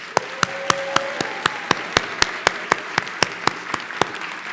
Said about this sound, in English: can we give the loudest round of applause?